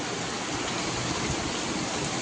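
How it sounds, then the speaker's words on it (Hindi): Steady rain falls outside a home, a constant, even hiss of drops at moderate distance with no other sounds standing out. "आज पहली बार ही घर में बारिश आ रही है।"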